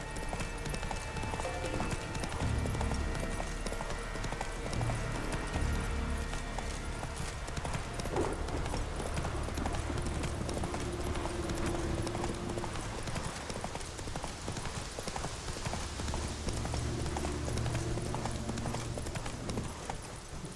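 Roach the horse's hooves in the video game Witcher 3, a steady clip-clop of hoofbeats that runs the whole time under game music and ambient sound, with faint talk now and then.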